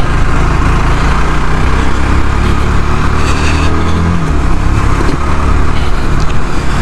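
A 2022 Yezdi Scrambler motorcycle engine idles and runs with a steady, loud, deep exhaust note that holds continuously without pause.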